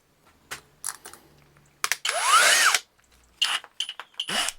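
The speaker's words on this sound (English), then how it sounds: "I can just drill them out from the inside" A power drill bores out solid brass drawer pulls from the inside, with short bursts and one longer whining run that rises and falls in pitch, loud and close, separated by brief pauses and clicks.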